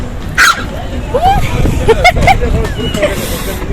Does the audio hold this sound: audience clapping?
no